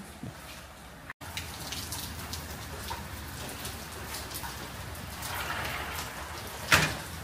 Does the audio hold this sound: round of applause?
no